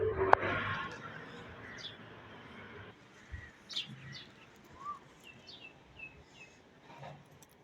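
Small birds being fed grain and water chirp and tweet in short, scattered calls at moderate distance, over a low background rumble and a brief sharp knock near the start.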